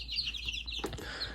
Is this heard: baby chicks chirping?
yes